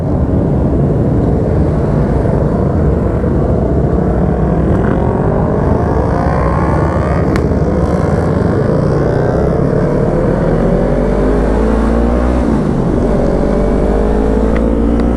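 Yamaha R3 motorcycles ride along a road in Cebu, their engines roaring loud and close with rising and falling revs and overlapping passes, continuous wind and road noise underneath.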